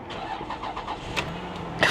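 A flood-damaged Lexus LS430 cranks with a rhythmic starter churn before the engine catches, ending in a sharp rise as it fires up, heard close by.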